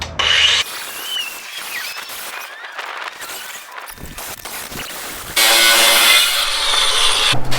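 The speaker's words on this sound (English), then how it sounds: "Let me see what I can do with the grinder." An angle grinder cuts near the rear engine mount of a VW Baja Bug, loud harsh grinding bursts at the start and again through the last two seconds, with quieter scraping and rubbing in between.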